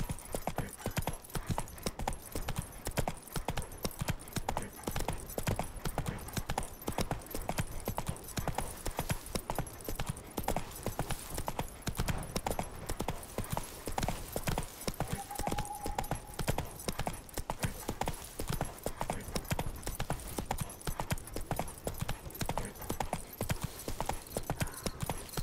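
Roach the horse gallops in The Witcher 3 video game, steady rapid hoofbeat clip-clop continuing throughout at a constant pace, with a brief faint whinny partway.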